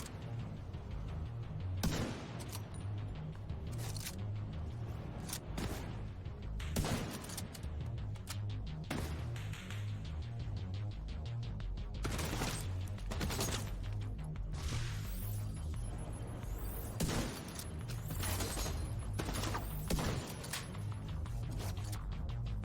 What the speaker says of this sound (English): I'm shooting into the dark